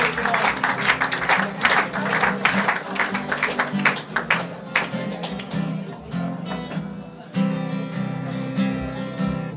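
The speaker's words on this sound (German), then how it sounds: "Applaus!" Audience applause at a Swiss carnival evening in Willisau, with dense clapping mixed with music and crowd noise that fades, then rises again near the end.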